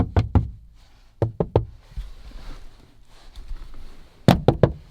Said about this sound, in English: This is the knocking test.